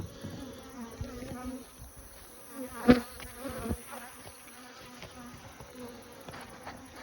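Honey bees buzz steadily around an open beehive while a frame of brood is moved between hives, a constant close hum with handling knocks and a brief spoken word.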